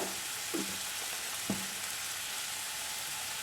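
Onions sauté in a pan for chicken curry, giving a steady close sizzle with two brief stirring scrapes.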